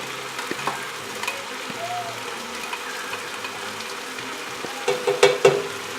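Cubed turkey dropped into a pan for chili, a soft continuous sizzle with faint crackles, ending in a few louder clattering stirs and splats.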